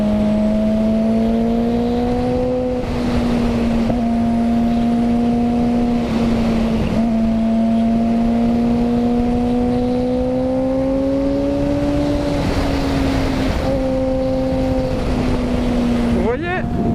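Suzuki GSX-R sport motorcycle engine droning steadily while riding on an open road, its pitch holding and slowly rising and falling with throttle, close and loud with constant wind rush, under a man's speech.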